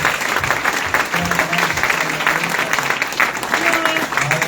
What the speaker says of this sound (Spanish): Hay que dar un fuerte aplauso al Señor.